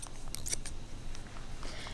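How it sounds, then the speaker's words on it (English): Thinning shears snip through a boy's hair a few times in quick, crisp clicks close up, with quiet room tone between. "I'm going to switch over to some thinning shears, and I'm just going to have my same comb and just hold it up and just do a couple snips"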